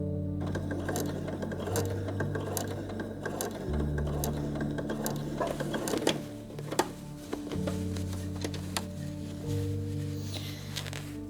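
Sewing machine stitching a flat felled inseam on trousers, running in stretches with a low mechanical whir that stops and restarts, along with clicks and fabric rustle, close and without talk.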